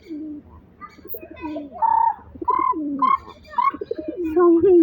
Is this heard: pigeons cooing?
yes